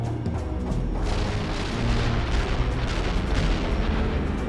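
Artillery fire in World in Conflict, dense rolling booms and bursts layered into a loud, continuous barrage of impacts.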